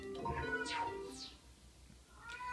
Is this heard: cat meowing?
yes